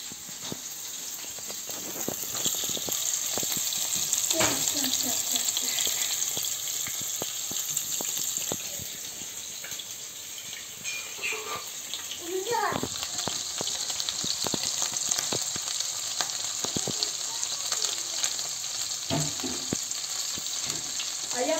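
Large cutlets sizzle in a frying pan at home, with a steady, soft, hissing crackle and occasional faint clinks and scrapes throughout.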